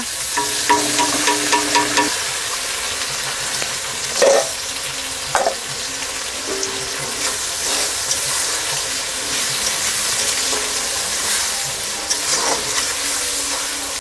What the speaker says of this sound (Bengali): ফোড়নটা তেতে গেছে, পেঁয়াজ দিয়ে দিচ্ছি, আদা রসুন বাটা,